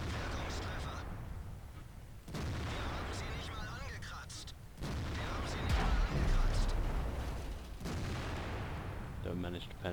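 A heavy tank cannon booms in World of Tanks, a Waffenträger auf E 100, with several deep blasts and rumbling tails spaced a few seconds apart, loud and near.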